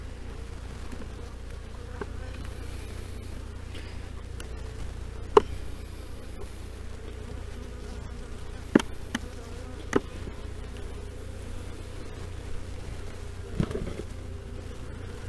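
Continuous low buzzing of many honeybees around a nine-frame hive, with a few faint clicks and taps scattered throughout; no talking.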